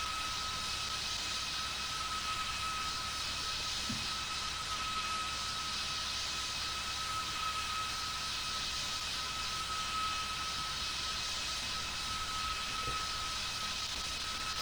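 An airplane in a flight simulator game flies low on approach to landing, a steady, even engine drone with a constant whining tone held throughout at moderate level, no talk.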